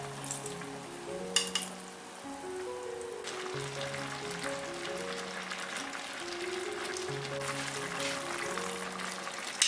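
Starch slurry poured into a pot of simmering soup with pig's small intestine, a soft continuous bubbling and sizzling simmer, steady and close, with a few light clinks.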